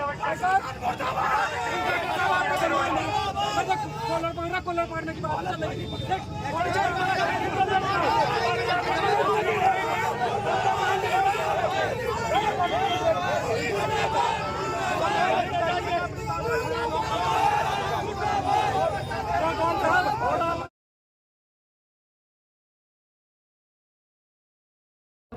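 A large crowd of supporters packs a road in Gangoh ahead of a panchayat, with police present. Dense, continuous babble of many voices fills the air throughout, and individual people talk loudly over the crowd noise until it cuts off.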